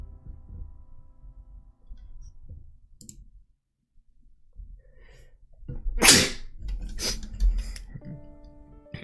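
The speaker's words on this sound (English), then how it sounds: "Hey, sneeze." A single sharp human sneeze bursts out loudly and close after a quiet stretch of faint clicking and desk noise, followed by a few softer clicks and rustles.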